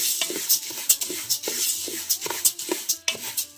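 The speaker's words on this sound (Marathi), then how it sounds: "कोळीत भाजताना ना सतत असं हलवावं लागतं चारी बाजूनी" Flour mix being stirred as it roasts in a pan over a wood-fired stove: repeated scraping strokes of a utensil against the pan in a steady rhythm, close and clear, no talk.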